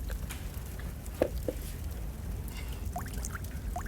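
Water poured and splashing faintly while something is washed in a kitchen during smoked beef brisket preparation, with brief trickles and drips over a quiet background.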